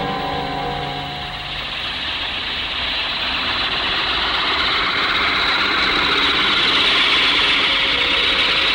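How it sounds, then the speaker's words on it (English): A helicopter engine drones steadily with a broad, hissing turbine roar and a low rumble underneath, loud and constant throughout with no talking. "That's a helicopter, not a computer."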